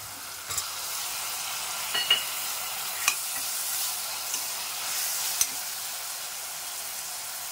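Tomatoes fry in hot oil for a beetroot salna and are stirred with a spoon, giving a steady sizzling hiss with several sharp scraping clicks of the utensil against the pan, close and alone.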